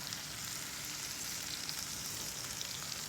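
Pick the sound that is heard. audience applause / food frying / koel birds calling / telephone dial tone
food frying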